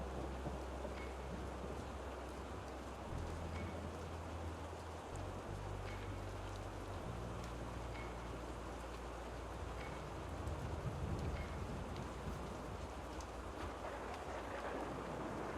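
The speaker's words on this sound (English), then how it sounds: "The rain thickens, and the cemetery darkens" Steady rain in a video game cemetery scene hisses and patters continuously, with a low rumbling undertone shifting in the background; no voices.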